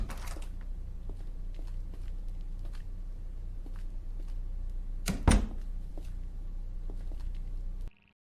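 Someone tries a locked door in an analog horror video game, producing a single sharp rattle and thunk of the handle against the latch midway through, set against a low, steady ambient drone.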